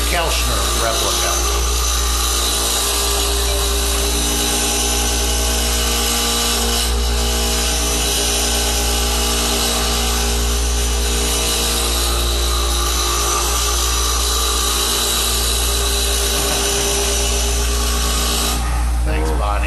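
Wood lathe spinning a Kelchner replica while a tool cuts into it, producing a loud, continuous rough roar and scraping that stays steady throughout, with voices faintly underneath.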